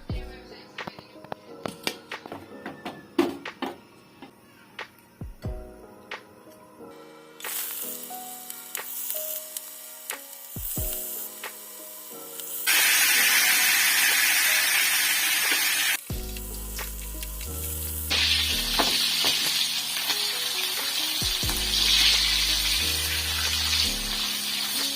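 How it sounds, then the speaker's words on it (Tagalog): Marinated pork chop fries in hot oil in a pan, with a loud, steady sizzle that swells and crackles. Occasional clatter and spatter break through close by. "Ipiprito lang po natin yung ating marinated na pork chop."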